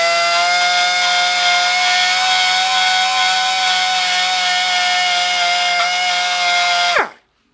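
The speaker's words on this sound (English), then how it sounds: "And that's just with the die grinder." A die grinder runs on an engine block being repaired with flux core bronze rod. It makes a loud, steady high-pitched whine for about seven seconds, then spins down abruptly to silence.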